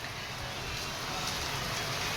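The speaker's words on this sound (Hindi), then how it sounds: "तेज हवाएं चल रही हैं और बारिश हो रही है" Rain falls steadily with strong winds during a storm over Bihar and Jharkhand, a dense, even hiss of drops and gusting air that stays moderately faint throughout, with no voices.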